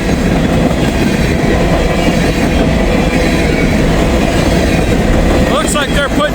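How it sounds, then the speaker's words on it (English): An empty grain train rolls past on the rails, a loud, continuous rumble with clattering wheels close by, and a thin squeal of wheels rising near the end. "Big old train."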